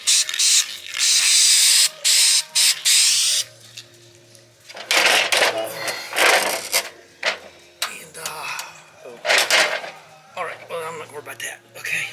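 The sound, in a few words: spray paint can being sprayed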